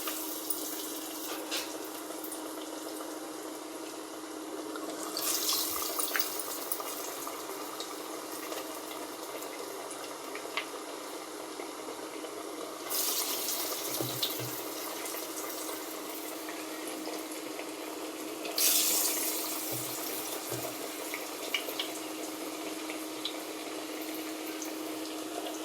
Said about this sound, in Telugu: ఇలా చేతితో నొక్కొని ఆయిల్లో వడ టైప్ వేసుడేనండి.